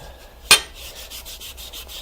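A solid aluminum piece is sanded by hand in a workshop, giving soft, rhythmic rubbing strokes repeating about every quarter second, with one sharp click early on.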